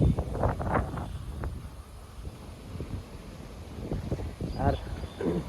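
Wind gusts across open farmland ahead of a rainstorm, rumbling and buffeting the microphone in uneven surges for several seconds.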